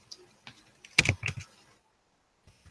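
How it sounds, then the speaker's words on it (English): Burst of computer keyboard typing, a quick run of close clicks lasting under a second, then a brief quiet pause before a couple more faint keystrokes. "I'm going to type it in here."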